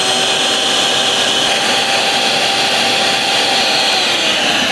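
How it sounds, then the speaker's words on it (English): A shop vacuum runs for an exhaust leak test on a 1965 Ford Falcon with EFI, a loud steady whine and rushing drone holding constant with no talk over it. "so we're gonna run the vacuum real quick."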